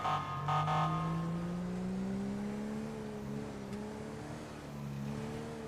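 A car engine revs and drones in a police roleplay game, mimicking an undercover cop car; the steady, loud engine tone rises slowly in pitch and holds, alone with no talk.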